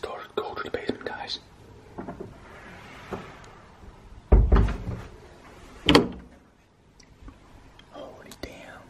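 The basement door of an abandoned mansion thumps and rattles open in two heavy knocks close by, amid soft whispering and shuffling movement.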